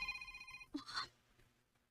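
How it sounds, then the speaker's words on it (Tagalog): A cellphone rings with a bright electronic tone for under a second, then a short burst of noise follows and the sound fades to quiet. "Maring ang cellphone."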